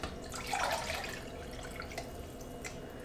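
Homemade coconut milk runs through a strainer with faint, soft dripping and trickling, quiet and close, with no voices.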